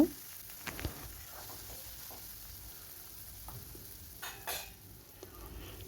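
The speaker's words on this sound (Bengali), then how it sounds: "আদাটা দিয়ে একটুখানি লো ফ্লেমে এটাকে ভালো করে একটু নেড়ে চেড়ে নেব।" Ginger fries in a pan on low flame as it is stirred, a faint, soft sizzle with a few light scrapes and taps of the spoon, close by but quiet.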